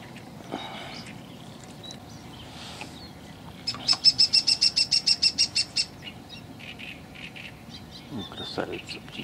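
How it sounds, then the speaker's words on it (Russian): A small bird sings near a quiet spring fishing spot: scattered chirps, then a bright rapid trill of about a dozen evenly spaced notes, close and clear over faint outdoor background. "Красавица птичка."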